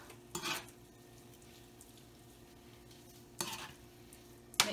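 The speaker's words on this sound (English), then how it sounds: "Definitely make sure I mix it so that every little piece of the broccoli gets some of the cheese." Broccoli and cheese mixed in a pan for a keto pizza: three short, quiet bursts of utensil scraping against the pan, separated by near silence and a faint hum.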